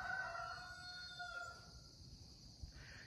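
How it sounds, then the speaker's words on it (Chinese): A rooster crows on a large farm at morning, one drawn-out call that sounds distant and faint and fades into quiet farmyard ambience. "这是第3次打鸣了"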